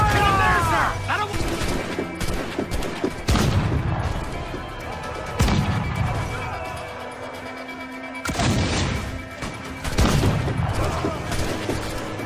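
Ship cannons fire during a naval battle in the video game Assassin's Creed III: several heavy booming volleys a couple of seconds apart over rumbling battle noise, with shouted voices in between.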